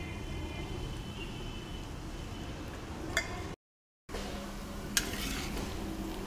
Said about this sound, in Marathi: तेल गरम झालं की आपल्याला हा शेंगदाणे आणि लसूणचं कूट याच्यामध्ये टाकून घ्यायचं आहे